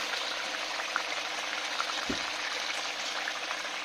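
Egg curry with coriander-cumin paste simmering in a pan, a steady soft bubbling hiss with small pops throughout and one low thump near the middle, close by with no talking.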